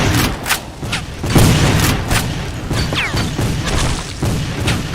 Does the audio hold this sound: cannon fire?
yes